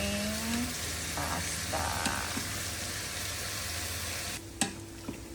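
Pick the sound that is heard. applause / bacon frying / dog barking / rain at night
bacon frying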